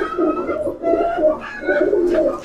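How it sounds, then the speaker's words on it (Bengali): A pair of pigeons at a pigeon loft, Lakhe breed among them, cooing in close, loud, rolling phrases that repeat three times with almost no other sound. "কবুতর পেয়ারটা একটু আপনাদের ছেড়ে দেখাই।"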